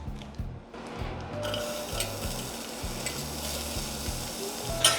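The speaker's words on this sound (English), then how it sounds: "All we're trying to do is kind of sweat our shallots." Shallots sweating gently in a little butter in a small sauce pot for a beurre blanc, giving a steady soft sizzle with light stirring scrapes, close and alone without talk.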